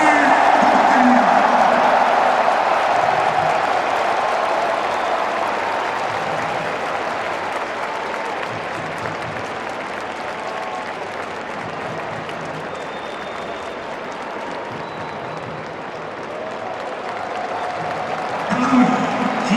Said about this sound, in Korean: 관장님들 뜨거운 박수를 부탁드립니다.